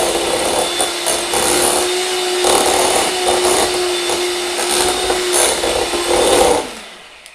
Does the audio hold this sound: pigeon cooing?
no